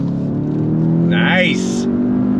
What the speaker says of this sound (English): Let's see how the on throttle feels. On throttle, here we go.